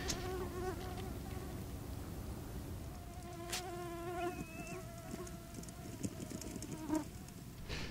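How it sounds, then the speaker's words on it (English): Mosquitoes whine around a sandy bank of the Rhône at sunset, a faint, thin buzzing that drifts close and away with some soft background noise. "there's so many mosquitoes, so I gotta be kind of quick and stealthy in the same time"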